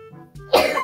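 One forceful sneeze triggered by pepper during a first-to-sneeze challenge, sudden and close after a short quiet intake, with a ragged tail as it fades.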